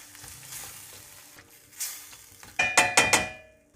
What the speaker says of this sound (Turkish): Karıştır.